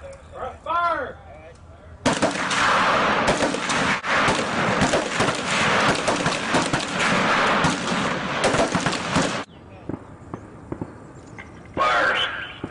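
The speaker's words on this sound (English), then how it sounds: "Acquire the bottom target on your firing point. Fire at will." Rifles fire on an ROTC firing range: a voice calls out briefly, then loud, dense overlapping shots crack continuously for about seven seconds before tapering off, with a short later burst.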